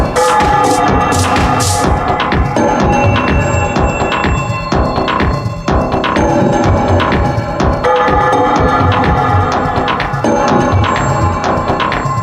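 Processed bell sound loop layered with reverb and effects, a dense, throbbing wash of ringing tones that pulses steadily and stays loud throughout.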